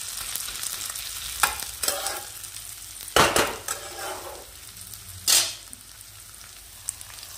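Meat stirred into a pan of fried onions, with faint background sizzling broken by several sharp spatula scrapes and clanks against the pan, a few loud bursts spaced irregularly, no speech.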